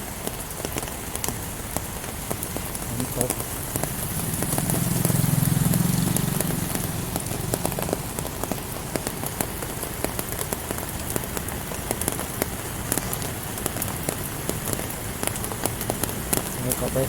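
Steady rain patters across the whole stretch at the Khlong Thom outdoor market, a dense hiss of drops on a surface, with a low rumble swelling briefly in the middle.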